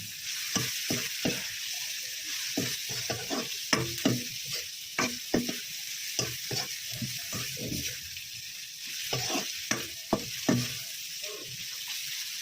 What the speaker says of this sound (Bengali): নেড়ে চেড়ে দিচ্ছেন, চুরি চুরি করে নিচ্ছেন নেড়ে ছেড়ে।